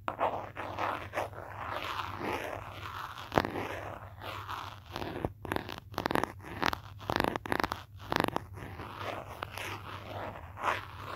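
Fingernails tapping and scratching across a phone's surface, producing close, crisp clicks and scrapes in irregular bursts with brief pauses, a steady low hum beneath.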